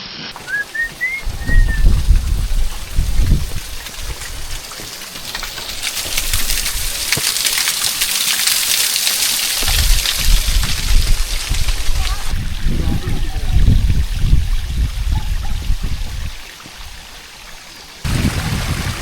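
Rainwater rushes down large rock faces on the monsoon Tringalwadi fort trek, a steady broadband flow with a voice speaking over it at times.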